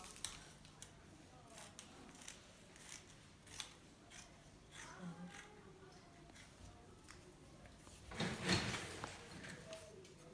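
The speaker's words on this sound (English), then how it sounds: "So I'm going to cut out my straight gown now." Scissors snip through fabric while a pencil gown is cut out at a table, with faint sparse clicks and rustles and a louder cutting burst near the end.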